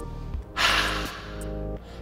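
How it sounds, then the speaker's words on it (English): A forceful open-mouthed lion's breath exhale from yoga pranayama, a single loud breathy rush lasting about half a second, then a softer trailing breath, heard close with no talking. "the lion's breath sounds like this."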